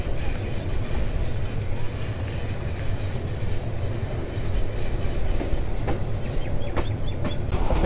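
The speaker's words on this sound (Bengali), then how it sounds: "মেলেন্দা বাজার স্টেশন থেকে ট্রেন ছুটে চলছে দুর্বার গতিতে" The Tista Express runs at speed on rails out of Melandah Bazar station, a loud, continuous rumble with rhythmic clickety-clack of wheels over joints, heard up close from inside the train on a winter journey.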